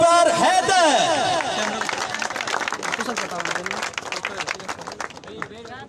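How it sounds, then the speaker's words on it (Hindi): Enthusiastic applause and clapping from a crowd at a football final's award ceremony greet the best goalkeeper, loud at first and gradually thinning out over several seconds amid background crowd noise. "तालियों के साथ इस सितारे का इस्तकबाल कीजिए।"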